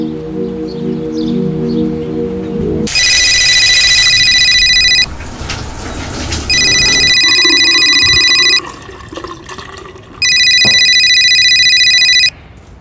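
A phone rings in repeated electronic trills, three loud bursts separated by pauses, over running water from a shower in a home setting, with no voices.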